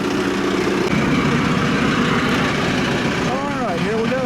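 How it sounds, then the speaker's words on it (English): A tractor engine runs close by with a steady, loud idling drone, its PTO shaft backed up to it, while a person speaks briefly near the end. "It's not hooked up to the tractor, just backed up to it, but we're gonna give her a try here."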